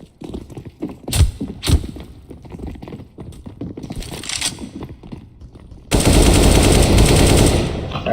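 A decoy grenade in CS:GO mimicking gunfire: scattered sharp shot-like bangs and thumps early on, then a sustained loud burst of rapid automatic fire near the end, close and dominant.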